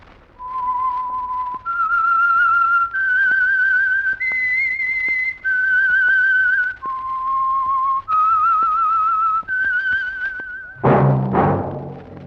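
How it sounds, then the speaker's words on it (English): Whistled theme signal of the radio drama The Whistler, a single clear melodic whistle of sustained held notes stepping up and down, loud and alone, ending in a brief orchestral hit. "That whistle is your signal for the Signal Oil Program, The Whistler."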